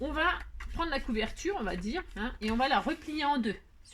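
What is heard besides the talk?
None of the usual background noises is heard.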